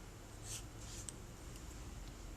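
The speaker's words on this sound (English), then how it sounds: "Do that by drawing a trunk" A pencil sketches a tree trunk on paper in a few quick scratchy strokes, soft and close against a quiet room with no talk.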